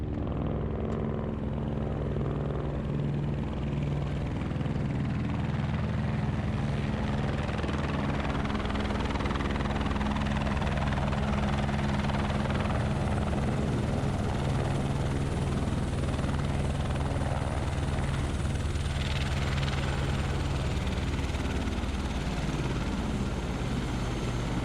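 A helicopter flies up a snowy alpine valley near Zermatt, Switzerland, to pick up heli-skiers, its steady rotor thudding and turbine drone filling the air at constant loudness throughout, with no one talking.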